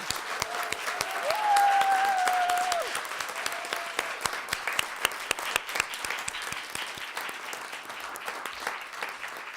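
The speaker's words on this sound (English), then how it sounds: "can we please have a huge round of applause in the room?" Applause from the audience at a Roma diaspora conference panel holds a steady roar of many hands through the whole stretch. A brief whistle-like tone cuts through early on.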